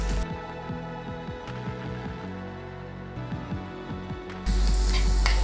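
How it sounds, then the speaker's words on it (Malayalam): Chopped shallots and cumin hit hot ghee and burst into a loud, steady sizzle near the end, cutting in over soft tonal background music. "നെയ്യ് ചൂടായി കഴിയുമ്പോൾ കുറച്ച് ചുവന്നുള്ളി അരിഞ്ഞത് കൂടി ഇട്ട് കൊടുക്കാം"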